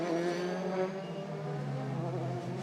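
A single-seater Euroformula race car drives through a chicane on the Pau street circuit in France, its high engine note sustained and fairly near, with no talking.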